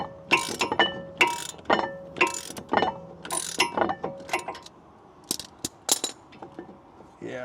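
Wrench loosening a brake caliper bolt on a Ford Mustang GT front brake: close, irregular metallic ratcheting clicks and clinks in bursts, fading to sparse taps toward the end.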